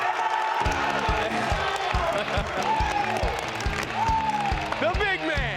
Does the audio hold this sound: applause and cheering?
yes